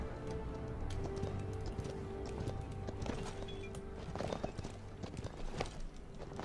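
Horse hooves galloping in the video game Paladins, a quick clip-clop rhythm over a low in-game hum and faint tones, fairly quiet and steady with a few sharper knocks near the end.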